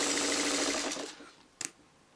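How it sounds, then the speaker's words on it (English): A sewing machine runs steadily while stitching a foundation-paper-pieced quilt block, its whirring motor close and loud, then slows and stops, followed by a brief clack. "I'm going to sew it just like that"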